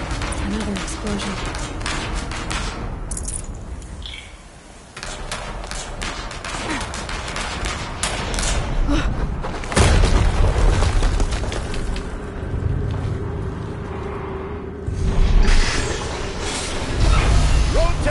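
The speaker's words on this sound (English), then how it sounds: "Another explosion." Explosions in the video game Horizon Zero Dawn come as several deep booms and rumbling blasts spread across the clip, amid continuous game noise and talking.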